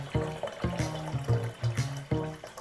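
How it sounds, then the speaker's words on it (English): Boiled water from a kettle is poured into a container as part of preparing a cold coffee mixture, a close, gurgling, filling stream that comes in several uneven bursts with brief pauses between them. "So I take my boiled water from my kettle and I add."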